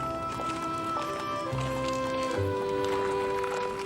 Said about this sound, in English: Lincoln's horse, Old Bob, is brought along to bid farewell to his master.